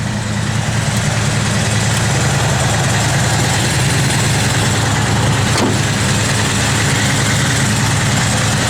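A 1970 Chevrolet Chevelle SS convertible idles steadily, its deep, even engine rumble loud and close and holding without a break, with one brief click partway through and no talking.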